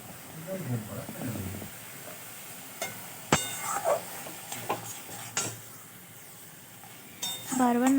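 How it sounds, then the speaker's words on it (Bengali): Pointed gourd paste with salt and turmeric being stirred in a wok, soft scraping strokes and a faint sizzle coming in scattered bursts, with a voice talking over part of it. "বারবার নাড়তে থাকবো যাতে কড়াইতে না লেগে যায়।"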